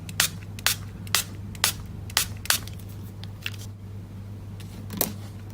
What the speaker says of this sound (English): I'm going to just spray on top.